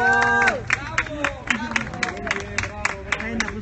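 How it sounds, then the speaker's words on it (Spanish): Clapping and cheering from a crowd for an Oaxacan youth band, with sharp scattered claps ringing out through voices calling and a sustained tonal sound, fairly loud and close. "un aplauso a la banda oaxaqueña"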